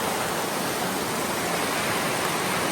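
A steady, roaring rush of a waterfall swollen by heavy rain, loud and continuous with no breaks, close by and with no voices.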